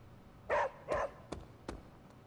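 A dog named Charlie in the video game Marvel's Midnight Suns gives two short, clear barks close by, then two fainter clicky thumps, with no talking.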